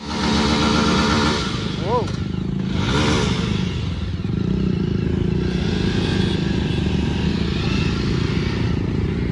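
KTM Duke and Apache RR 310 motorcycles riding, a loud continuous engine drone with wind rush, steady throughout, with brief horn-like tones and a short spoken sound.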